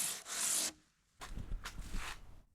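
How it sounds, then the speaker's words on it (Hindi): A saw blade is scraped across a polystyrene sheet to roughen its surface, giving two bursts of harsh, hissing rasping strokes separated by a brief pause, close and fairly loud with no talking. "आरी के ब्लेड से सतह को खुरदरा करने की प्रक्रिया को मैं तेज भी नहीं करता, लेकिन यह बहुत जल्दी हो जाता है।"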